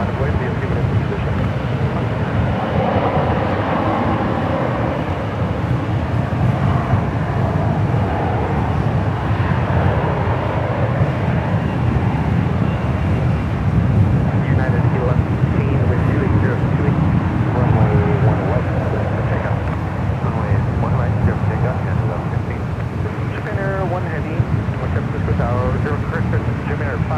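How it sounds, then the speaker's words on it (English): Heavy jet airliners taking off from runway 1 right at San Francisco International Airport, a steady broad engine roar holding loud and constant throughout, with no pauses. "Getting a lot of heavies taking off here on 1 right here today."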